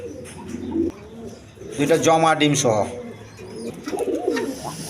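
A pair of Kaldom pigeons sold with two eggs coo nearby while someone talks loudly over them, the birds' low murmurs surfacing at the start and end.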